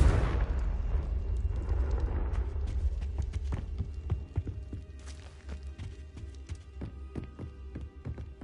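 A Confringo blasting spell explodes in Hogwarts Legacy, a loud deep boom that rumbles and decays over several seconds, followed by scattered crackling debris clicks and pops.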